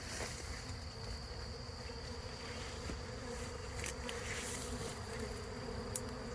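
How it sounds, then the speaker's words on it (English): A steady, dense honeybee swarm buzz drones throughout at moderate level, like many bees flying nearby, with a couple of brief sharper clicks. "That's usually what you get stung by is your field force, the older bees."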